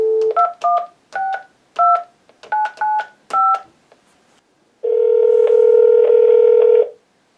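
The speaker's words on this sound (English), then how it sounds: "so I go to number 2, hit off, and dial." Telephone keypad tones dialed through a VoIP adapter: eight short, evenly spaced dual-tone beeps, then a steady, loud dial or ring tone lasting about two seconds. No voices.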